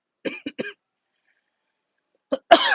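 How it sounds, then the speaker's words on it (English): A short burst of close coughs and throat clearing, then a pause, then another cough followed by a rough, breathy exhale. "Coughing in your ear and carrying on."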